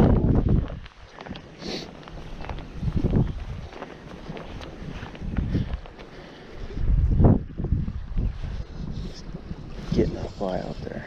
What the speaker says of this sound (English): This wind isn't working now.